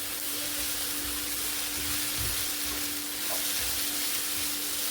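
Vegetables fry in a pan with a steady, close hiss while they are stirred, a few soft scrapes surfacing under the constant sizzle and no one speaking.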